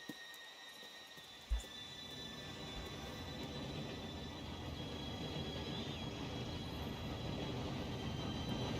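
A train rolls along rails in the Red Dead Redemption 2 video game, a steady low rumble that slowly builds, faint, with a brief clank near the start.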